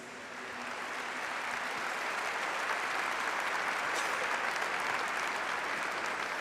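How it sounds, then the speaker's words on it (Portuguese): A congregation claps for the word of God in a steady, full round of applause that swells in the first second and stays even, fairly distant and soft, with no speech over it. "Vamos aplaudir a palavra de Deus."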